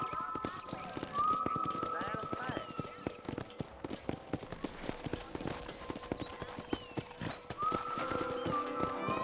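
Horse hooves clip-clop in a steady, even rhythm in Red Dead Redemption, close by, over a soft background with brief tonal calls.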